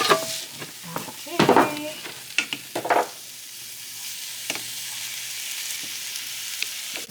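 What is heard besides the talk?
tomatoes and meat frying in a pan for tacos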